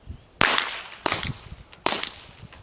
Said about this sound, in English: This is with the non-subsonic ammunition being fired through a GEMTECH GM22 suppressor.